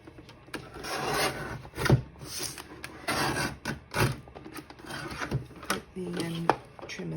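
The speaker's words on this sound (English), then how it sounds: "Let's trim the excess of that off." Paper trimmer slicing the edge off a junk mail envelope, heard as a series of rasping, scraping strokes and clicks at close range, interleaved with a person talking.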